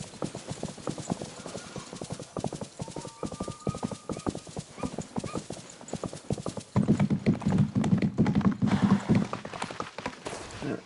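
Steady rhythmic clip-clop of horse hooves in the video game Disney Dreamlight Valley, close and clear, growing heavier and louder toward the end, with a brief whinny-like tone early on.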